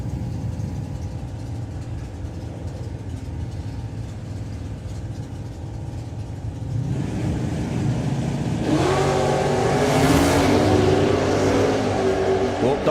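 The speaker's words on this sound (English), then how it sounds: "Well, Duncan's car didn't pick the wheels up that time" Drag racing cars launching at the Nostalgia Nationals: an engine idles and burbles, then swells into a loud roar and revving scream, partly under a commentator's voice.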